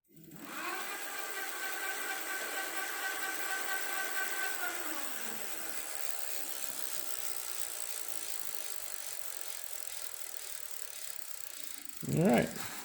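A KBO or Himiway e-bike hub motor spins on the thumb throttle while the bike leans on its kickstand, a steady whirring whine that rises and then coasts down, ending with a short rattling clunk.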